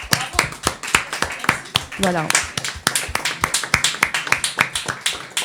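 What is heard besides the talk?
audience applause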